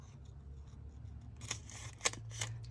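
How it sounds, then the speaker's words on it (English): Scissors snip a leaf shape out of paper printed with a rubber-stamp image, a few quiet close-up cuts with a couple of sharper clicks of the blades toward the end over faint room noise. "I'm going to cut that leaf off."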